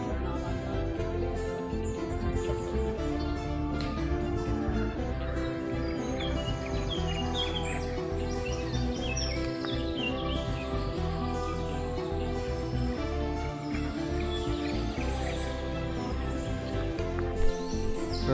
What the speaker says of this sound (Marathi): रस्त्यात नीट बघितलं तर भरपूर पक्षी सुद्धा दिसतील.